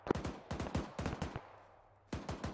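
Bursts of automatic gunfire ring out in the military shooter ArmA 3, several sharp rapid volleys separated by a short pause, loud and close.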